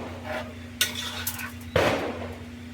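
A Guyanese cook up, the traditional New Year's Eve one-pot dish, gets stirred in a pot: two short, close scraping strokes over a steady low hum, with a faint clink of a spoon against the pot.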